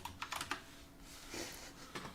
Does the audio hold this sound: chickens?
no